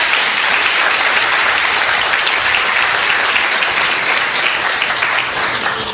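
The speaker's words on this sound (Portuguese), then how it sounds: "Queria que fosse dada uma salva de palmas para eles." A sustained round of applause at a graduation ceremony for a school of prophets, loud and even, with dense clapping that holds steady and tapers slightly near the end.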